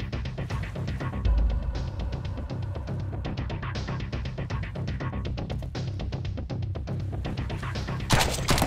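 Rapid bursts of gunfire in the game Sunkenland crackle almost nonstop at moderate volume, dense overlapping shots with a few heavier thumps.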